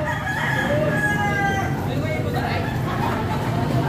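Rooster crowing at a chicken sale in Padre Garcia, Batangas, with drawn-out crows rising over a busy crowd murmur and other fowl in the background.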